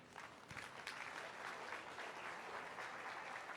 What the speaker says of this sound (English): These young ladies, a big round of applause